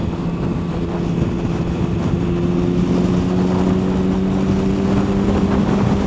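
Triumph Sprint ST 1050 motorcycle fitted with a Trident exhaust, idling close by with a steady, continuous low engine drone and no talk over it.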